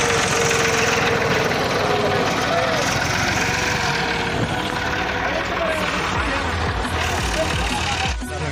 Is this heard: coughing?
no